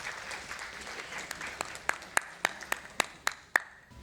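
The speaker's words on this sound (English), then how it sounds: "Can we have a huge round of applause for him?" An audience at a corporate event claps for a keynote speaker. Scattered soft claps grow into a run of sharp, evenly spaced claps, like a small group applauding.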